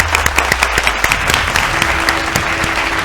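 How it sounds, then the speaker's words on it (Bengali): A studio audience claps loudly for the winning team at a televised agricultural quiz trophy ceremony, with dense continuous applause throughout and sharp individual claps standing out. "জোরে হাততালি সবাই"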